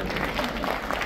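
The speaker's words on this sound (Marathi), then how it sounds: "सर्वात आधी या महासूत्रसंचालकासाठी जोरदार टाळ्या।" An audience at a book-launch gathering gives the host a round of applause, a short, steady patter of many hands with a murmur of voices beneath.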